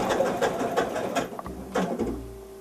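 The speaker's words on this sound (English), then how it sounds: "start the machine, and it will begin to go around the first step of anchoring the applique, anchoring the fabric for that" A home embroidery sewing machine stitches the first anchoring pass around a quilt appliqué in a hoop, a close, steady mechanical whir with rapid repeating needle clicks that slows near the end.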